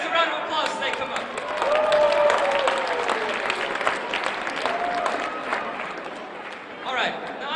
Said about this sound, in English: give these guys a round of applause as they come up